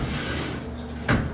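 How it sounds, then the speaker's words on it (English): A small storage drawer in an extended-stay hotel closet slides and knocks shut once near the end, a short, close sound over quiet room hum. "And these are like little storage drawers."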